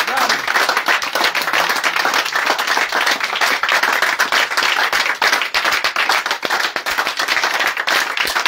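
A church crowd at an evangelistic crusade in Aboisso Comoé, Côte d'Ivoire, claps loudly and continuously in praise, with dense, rapid hand claps filling the space and faint voices mixed in.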